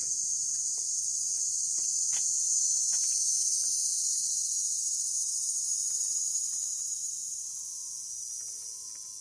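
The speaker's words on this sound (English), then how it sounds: "Today, listening to the cicadas." Periodical cicadas drone in a continuous, high shimmering buzz, steady and loud, with a few faint clicks and knocks underneath that fade slightly near the end.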